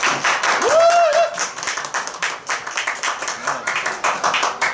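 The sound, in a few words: congregation clapping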